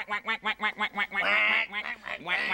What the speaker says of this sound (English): Yeah, that sounds like a duck.